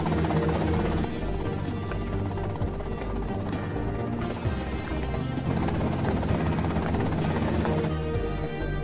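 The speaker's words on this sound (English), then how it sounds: "that's them in the chopper" A helicopter in the game GTA Vice City churns steadily and loudly through the whole stretch, blended with dense game sound and music-like tones, with no pause in the engine drone.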